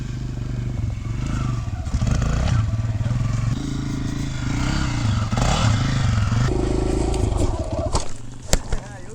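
Kawasaki KLX140 dirt bike engine idles and revs nearby for several seconds, then gives way to clattering and scraping toward the end, with people talking over it.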